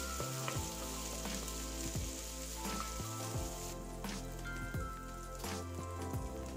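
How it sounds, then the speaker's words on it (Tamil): Ginger garlic paste sautéing in a pan, a steady close sizzle and crackle with occasional stirring scrapes throughout. "இதில் நான் கொஞ்சம் இஞ்சி பூண்டு விழுது சேர்த்து நல்லா வதக்கிக்க போகிறேன்."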